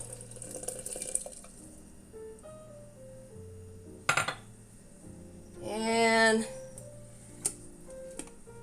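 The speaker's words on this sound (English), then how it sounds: "Hot water in." Hot water pours into a French press for coffee, a short rising gurgle of filling liquid lasting about a second, set among quiet clinks and ticks in an otherwise calm room.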